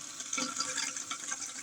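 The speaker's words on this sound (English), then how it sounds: "now we can turn the water back on" Toilet tank refilling with water after a repair, a steady gushing rush with bubbling fluctuations, fairly close and continuous, no talking.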